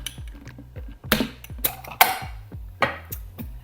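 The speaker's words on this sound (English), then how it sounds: "So, lid on the shaker. Okay, let's get ready to shake." Margarita rattled hard in a cocktail shaker, ice clattering in quick irregular bursts of sharp knocks and jangles, close and alone.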